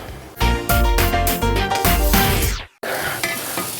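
Tatar peremyach meat pastries fry in hot oil with a loud, steady sizzle and bursts of stirring. The sizzle breaks off for a moment near the end, then resumes.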